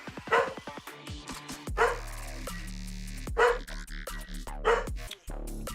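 A dog barks in a few sharp, spaced bursts, close and fairly loud, with short yips and whimpering whines between them.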